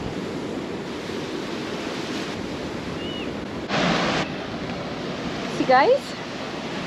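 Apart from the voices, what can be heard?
ocean waves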